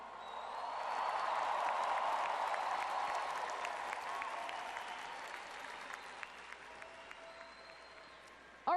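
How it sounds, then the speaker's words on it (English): Convention crowd at a CCXP panel in Brazil applauding Wonder Woman cosplayers, a broad wave of clapping that swells then slowly fades, with a few cheers and faint voices underneath. "Please give a big CCXP round of applause for our Wonder Woman cosplayers"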